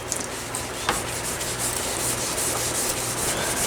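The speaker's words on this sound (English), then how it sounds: "grab my Scotch-Brite and go over here to the water and, if you will, water sand it" Steady wet rubbing of a Scotch-Brite pad worked with water over the metal of a double barrel gun, a continuous close scrubbing hiss with small catches, alone without talk.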